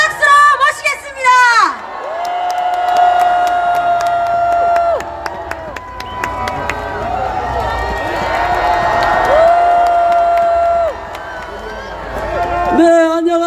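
A rally crowd at an evening event before a national holiday cheers, whoops and shouts loudly under a presenter's amplified voice and music, a dense roar that swells in the middle and fades near the end.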